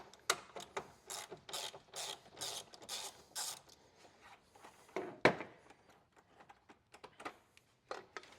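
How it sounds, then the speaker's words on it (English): A ratchet clicks in quick bursts while loosening fan shroud bolts on a 2001 Ford Ranger 4.0L engine during teardown, several close rapid clicking runs with pauses and a sharper metallic clank midway. "pull out these 4 fan shroud bolts"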